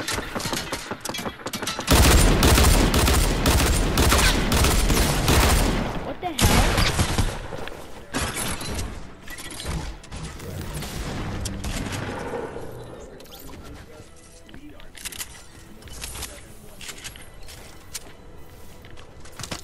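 Heavy sniper and other weapon fire in a shooter video game, with loud, rapid cracking shots packed densely for several seconds, then sparser and quieter reports, while players talk over it.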